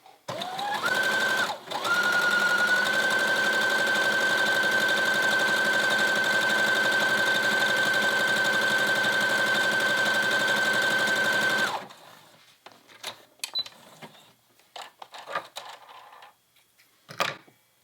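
A sewing machine runs steadily for about twelve seconds, stitching knit fabric with a fast, even mechanical whir and a sustained tone, close and loud. It then stops, followed by scattered faint clicks and handling noises.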